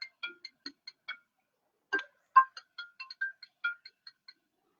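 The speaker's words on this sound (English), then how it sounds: "As I have phone calls coming in on my computer." A computer ringtone for an incoming phone call plays alone as a quiet pattern of short, bright chimes, two clusters of plinking notes separated by a brief pause.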